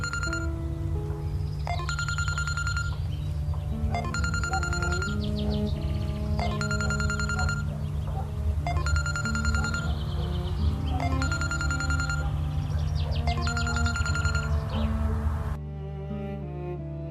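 A telephone rings repeatedly and goes unanswered, its chirping electronic ringtone repeating in regular bursts about every two seconds over a steady low hum and background music, with no talking.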